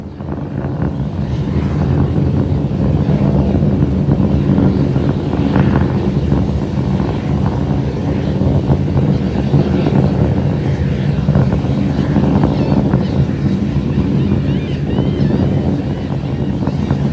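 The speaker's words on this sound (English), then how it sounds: "the Raptor engine's continuing to perform" SpaceX Starship SN15 Raptor rocket engine firing in flight, a loud, steady, broad roar that holds unbroken with little variation for the whole stretch.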